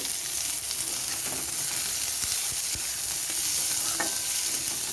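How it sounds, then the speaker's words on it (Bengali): Green chilies and onion fry in hot oil in a wok, giving a steady loud sizzle with stirring scrapes and a few sharp taps of the spatula, close up and uninterrupted by talk. "লঙ্কা পেঁয়াজটা আমি কিছুক্ষণ ভেজে নেব।"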